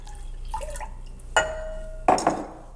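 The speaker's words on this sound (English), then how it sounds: "I'm going to add our slurry." Slurry poured into a strawberry pie filling mixture of sweetener and Jell-O, a few soft liquid splashes and clinks of a pot, close, with quiet kitchen noise in between and no talking.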